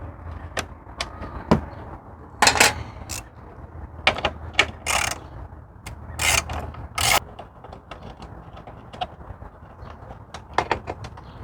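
Ratchet clicks sharply in short bursts while loosening headlight bolts on a Ford Flex, quick metallic ratcheting strokes separated by brief pauses, close and fairly loud.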